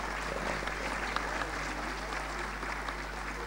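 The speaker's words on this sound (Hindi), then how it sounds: "छोटे बच्चों में इससे ज़्यादा तालियां हुई थी" Parents applauding teachers at a school annual function, a continuous, even wash of clapping heard at moderate level over a steady low hum.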